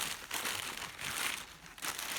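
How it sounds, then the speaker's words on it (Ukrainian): Close crinkling and rustling of a plastic parcel package being torn open, soft and continuous with a few louder bursts of crackle. "Ось, дивіться, гарний пакетик. Відкупаємо."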